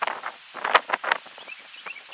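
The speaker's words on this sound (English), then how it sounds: "I apologize for the wind" Wind buffets a microphone outdoors during a Pit Boss grill control board replacement, arriving in short irregular gusts and rustly bursts that rise and fall in loudness, close and uneven.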